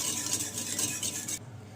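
Sugar gets stirred into a chocolate donut batter, a brisk, close scraping and swishing of a spoon in a bowl in quick repeated strokes that stop short near the end.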